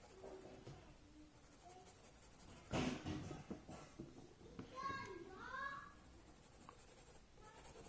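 Pencil scribbling shading on paper, a few quick scratchy strokes close up, with faint talk and a brief sharp knock in the background.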